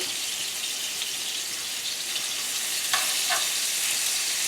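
Lamb chops fry in a saucepan with a loud, steady hiss of spitting fat, close by, with a couple of brief metallic scrapes near the end and no speech.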